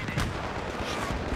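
Battlefield 3 gunfire on Sharqui Peninsula, a brief spell of dense rattling shots and booms in a busy battle mix.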